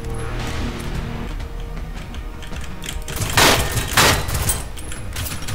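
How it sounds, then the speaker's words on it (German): Two loud gunshots crack a second apart over a dense, noisy soundscape in the video game Generation Zero. "Wieso sind diese Schüsse so verdammt laut?"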